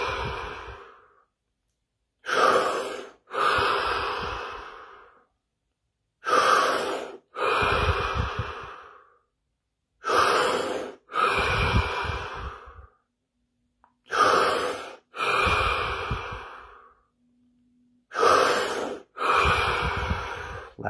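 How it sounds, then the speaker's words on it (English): Seven deep breaths in a guided breathing exercise, each a loud, close pair of long inhales and exhales separated by short pauses, evenly paced with no talking. "We're going to take 7 deep breaths"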